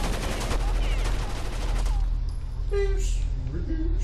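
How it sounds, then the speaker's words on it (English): Gunfire in the video game Rainbow Six, rapid bursts of shots over a steady low rumble, with a voice talking during the shooting. "I'm getting shot."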